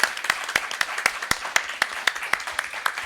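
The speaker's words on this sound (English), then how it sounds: "I think we can get a round of applause to that." A small audience at a trans health conference breaks into applause, with a few distinct hand claps sounding in a slow, regular rhythm over a soft bed of scattered clapping.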